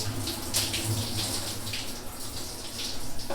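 Water runs steadily from a shower aboard a sailboat anchored in Fort Lauderdale, a close, continuous hiss and splatter with faint low rumble underneath and no talk.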